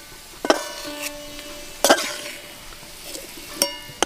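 Fried onions are lifted out of hot ghee in a pan, with a soft sizzle and a few distinct metallic scrapes and clinks of the spoon against the pan.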